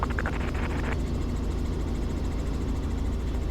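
Inside a Robinson R44 helicopter in flight, a loud, steady engine and rotor drone fills the cabin continuously, with a brief crackle of radio noise at the start.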